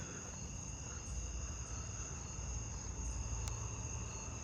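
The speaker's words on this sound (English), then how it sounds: "Another fall field cricket." A fall field cricket chirping at night in a steady, high insect chorus, with a faint constant drone and no voices.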